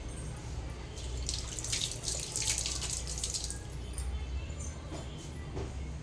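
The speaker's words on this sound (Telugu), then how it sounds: "వేసి ఇక దీన్ని బాగా మసలు పెట్టేద్దాం" Tamarind fish curry with curry leaves boiling in a pot, a steady close bubbling and hissing simmer with fine watery crackle running throughout, no voices.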